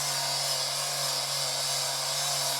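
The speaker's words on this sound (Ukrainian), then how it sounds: "Чоловік вже обрізав і шліфує брусочки, які нам потрібні для нашого" A power sander works wooden bars cut for a garden gazebo, a steady, loud, unbroken hiss with a constant motor hum throughout.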